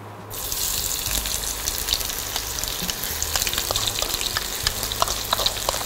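Onion frying in a pan for a Bengali turmeric-leaf shrimp paste dish, a steady close sizzle with frequent crackles and pops, continuing throughout with no talk.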